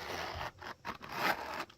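A zipper closes on a Galen Expansi-Pouch holding fountain pens, giving quick close rasping strokes with short pauses between pulls, heard alone with no voices.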